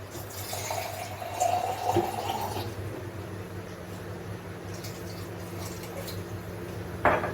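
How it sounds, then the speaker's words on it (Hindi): Water is poured into a pot of taro curry gravy, giving a soft continuous splashing and trickling over a low background hum, with a brief clink near the end. "तो थोड़ा सा पानी इसमें और डालूंगी।"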